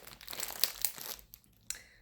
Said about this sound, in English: I'm gonna try and unpackage it as nicely as I can.